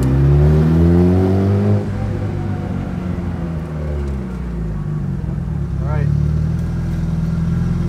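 A 750 hp Lotus sports car's engine idles and warms up with a loud, steady low rumble that swells briefly near the start and again near the end, close by and continuous throughout.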